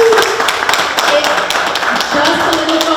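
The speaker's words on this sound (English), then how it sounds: "we want to give him a big round of applause" Applause from a pageant audience at a sashing ceremony, scattered hand claps forming a steady patter with a few cheers and voices mixed in throughout.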